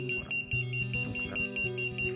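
Drone buzzer tested during a flight-controller setup check, giving a steady run of repeated electronic beeps with short pauses, loud and close, no talking.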